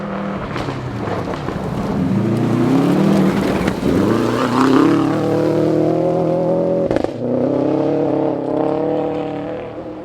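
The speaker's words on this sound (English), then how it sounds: "You could hear him, he had the car turning, sliding on the power, and then he did a big lift off the throttle for a moment, wait, and then went again" A rally car on Stage 1 of the 2012 Olympus Rally slides under power with a loud, rising engine howl, briefly drops off as the throttle is lifted, then revs hard and accelerates again.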